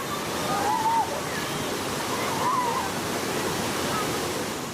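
Children playing in the Kanduaraya river, heard as a steady broad rush of splashing and flowing water, close and continuous, with faint distant voices underneath.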